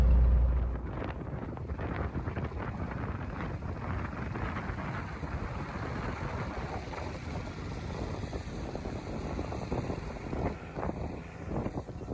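Continuous desert wind roars and rushes across the microphone outdoors, a dense, steady blustering with no voices, lasting throughout.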